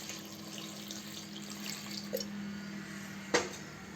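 Tap water, about three glasses' worth, added to a pot while cooking a lentil and leafy-green curry: a faint, steady trickle with a low background hum and a brief splash near the end.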